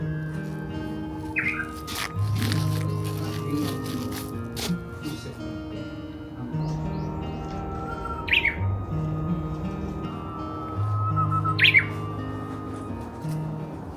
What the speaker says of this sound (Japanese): どこにいるんだろうウグイス